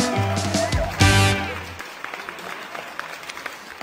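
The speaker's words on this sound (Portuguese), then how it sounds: "Um aplauso. Vamos." Audience applause at a live comedy show, following a burst of music at the start. The crowd's clapping is moderately loud and continues as a scattered patter while the music stops.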